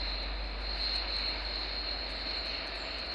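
A cargo plane's jet engines roar steadily during a takeoff roll in the Tower! Simulator 3 game, a loud, unbroken broadband rush with a thin high whine on top and no voices.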